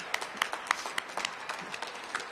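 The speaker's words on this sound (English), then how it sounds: "If you all could give a round of applause." Scattered, sparse clapping from a small audience at a Black History Month community celebration, faint and uneven, with a handful of distinct claps rather than full applause.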